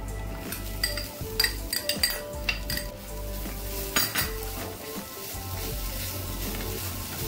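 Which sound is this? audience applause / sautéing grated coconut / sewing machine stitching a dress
sautéing grated coconut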